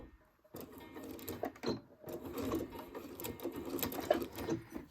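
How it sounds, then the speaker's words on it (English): A home sewing machine runs a back stitch on a small fabric scissors holder pouch, its needle motor whirring in a steady close burst after a brief pause, with soft handling noises around it. "press your foot down, hold on to both of these, and we'll start sewing. I am going to do a back stitch."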